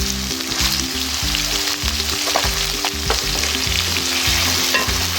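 Chicken sizzles and crackles as it is stirred and fried in a hot pan for Chinese-style chicken and vegetable fried rice, with steady loud frying and intermittent scraping stir strokes and no talking.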